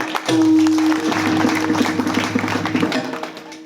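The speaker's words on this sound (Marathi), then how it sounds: "टाळ्या वाजवा एकदा" Audience at a Marathi kirtan claps together, a dense burst of hand claps that starts loud and settles into steady clapping over a sustained tone, alone without speech.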